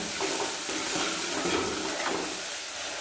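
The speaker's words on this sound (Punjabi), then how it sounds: "ਹੁਣ ਆਪਾਂ ਇਹਨੂੰ ਇਸ ਤਰ੍ਹਾਂ ਭੁੰਨ ਲਾਂਗੇ" Ginger, garlic and onion are stirred and roasted in a pan, giving a soft, steady sizzle with intermittent scraping stirs, fairly faint and close.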